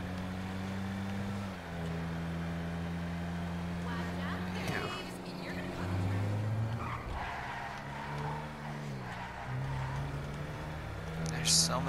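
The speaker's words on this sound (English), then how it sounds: "That's what they used for an engine sound?" Car engine from the video game GTA Online: a steady, droning engine tone that shifts pitch through gear changes, with brief tire squeals and a person talking over it.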